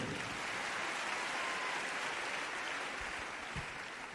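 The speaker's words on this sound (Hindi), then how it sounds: "एक जोरदार ताली इनके लिए।" A crowd at a family ceremony gives a dense, steady round of applause, moderately distant and even throughout, with no voices over it.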